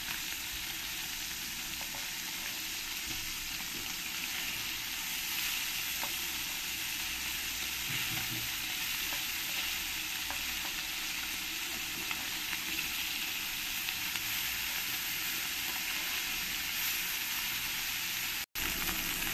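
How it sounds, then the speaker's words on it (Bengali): Small puti fish frying in oil in a pan, a loud, dense and steady sizzle running without pause from start to finish, with faint occasional ticks and no voices. "এই পুঁটি মাছগুলো আমার ভাজা হয়ে গেছে"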